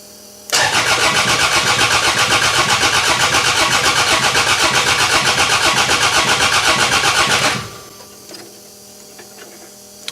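A car engine cranks on its starter in a loud, rapid, even rhythm for about seven seconds, then cuts off, leaving a quiet workshop background with faint clicks.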